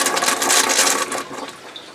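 An RV toilet in an Eagle fifth-wheel being winterized flushes with a loud, continuous rush of water that fades over about two seconds, with no talking.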